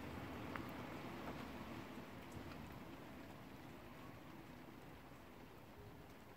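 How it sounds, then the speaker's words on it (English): Gentle rain falling on wallflowers outdoors, a soft, steady pitter-patter hiss that continues evenly throughout at a low, distant level with no voices. "enjoying the sound of the rain. It's gentle pitter-patter and refreshing nature."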